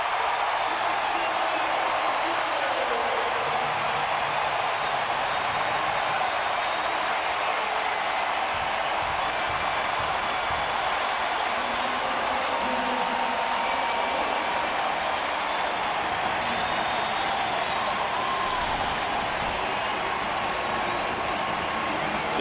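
Roaring stadium crowd at an NFL game between the Giants and Saints after a touchdown, a loud continuous wash of cheering that fills the whole stretch, with commentary voices faintly underneath.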